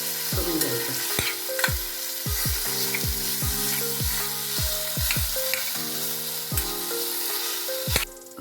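Washed dates being stirred with a little ghee in a hot kadai for ladoos, a spatula scraping the pan in steady repeated strokes over a soft continuous sizzle, close and fairly loud, with no talking.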